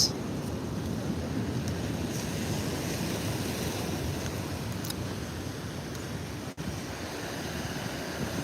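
Steady roar of rough surf washing onto Ponnani beach, continuous and broad, with wind buffeting the microphone throughout.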